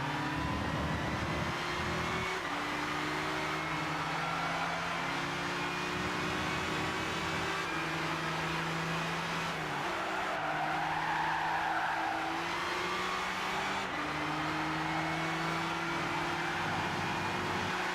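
Race cars in Gran Turismo 6 drive with steady, droning engine tones that shift in pitch through gear changes, with faint tire squeal rising briefly in the middle, all sustained and fairly quiet.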